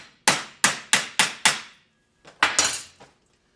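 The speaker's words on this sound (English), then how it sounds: "See what happens when we hit it with a hammer." Hammer striking a welded stainless steel piece: five sharp ringing metallic blows in quick even succession, a pause, then a few more hits closer together, each tone decaying briefly.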